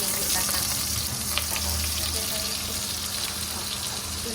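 Sautéing in a pan for pakbet with pork and shrimp, a continuous close sizzle with garlic, onion and ginger, with a low hum underneath and faint voices.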